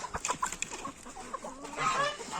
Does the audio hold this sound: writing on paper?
no